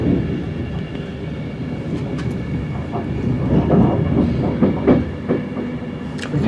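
Train pulling into Crewe station in the rain, a close rolling rumble with irregular clickety-clack wheel knocks and occasional squeaks over a steady low drone, no talking.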